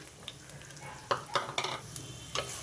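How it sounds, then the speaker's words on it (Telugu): Chopped onion and green chillies fry in hot oil inside a heated clay pot, a soft steady sizzle punctuated by several spoon scrapes and clinks, close up with no talking. "ఈ ఉల్లిపాయ పచ్చిమిర్చి కొంచెం వేగాలి"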